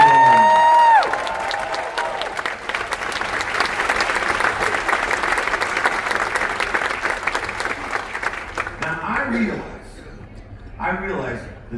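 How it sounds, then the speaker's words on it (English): Large audience aboard the Royal Caribbean cruise ship Voyager of the Seas applauds and cheers for military forces, a dense sustained wash of clapping that follows a brief tone and thins out near the end. "So can we give a huge round of applause to all the military forces around the world?"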